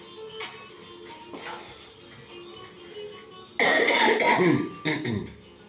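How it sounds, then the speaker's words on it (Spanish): A woman coughs with a heavy chest cold, first a few faint throat sounds, then a loud, close burst of harsh coughing followed by a couple more coughs. "Tengo mucha tos, sí."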